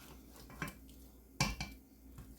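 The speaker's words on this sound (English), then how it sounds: "You want to go ahead and give them a quick stir" Onions cooking for chicken soup get a quick stir in a pot on the stovetop: a few soft utensil scrapes and clinks against the pot, fairly quiet and close.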